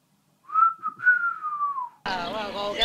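A voice whistles an imitation of a bird call, a single long gliding whistled note lasting over a second, followed by an abrupt cut to a dense, steady sound.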